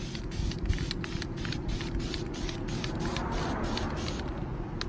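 Car parts for an S15 SR20DET build being spray painted: a loud, steady aerosol hiss runs throughout, with a rapid, even ticking pulse on top that fades near the end.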